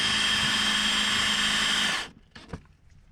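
An electric drill bores holes through the sheet-metal body of a Kia Spectra, a steady loud whine for about two seconds before cutting off, followed by a few faint clanks and handling noises.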